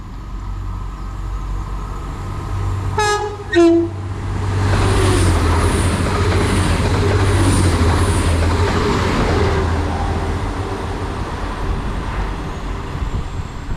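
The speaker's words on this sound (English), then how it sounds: "passing through now, we've got a couple of 185s on a service from Cleethorpes to Liverpool Lime Street" A pair of Class 185 diesel trains run through a station on a Cleethorpes to Liverpool Lime Street service, giving a loud sustained low rumble and roar with high hiss, after two short horn-like tones early on.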